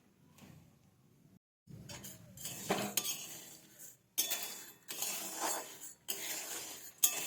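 A hot kadai used for dry-roasting without oil gives off bursts of scraping and clinking as a utensil stirs against the metal, with a short pause before louder, busier spells of stirring, close by and with nobody talking.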